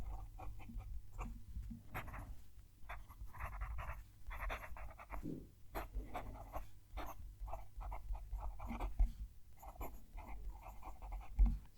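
A TWSBI fountain pen with a soft, slightly springy nib scratches across paper in short, rhythmic strokes, close and quiet, with no voices.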